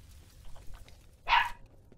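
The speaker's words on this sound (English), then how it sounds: "the dog barked and it scared me" A single short, loud dog bark from the video game F.E.A.R. bursts out over a low, murky in-game background, close and abrupt, standing alone without speech.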